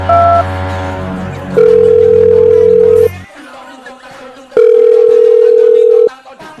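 A telephone signals an incoming call with two long, loud electronic ring tones separated by a pause, after a brief stretch of mixed tones at the start. No talking is heard over the rings.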